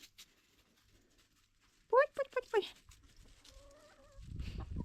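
A few short, bright clucks from chickens in quick succession, fairly close, followed by a faint voice and some low rustling.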